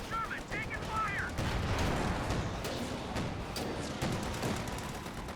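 In a Company of Heroes 2 battle, a Sherman tank comes under fire. Steady, rattling gunfire with dense overlapping shots runs throughout, with a short voice line near the start.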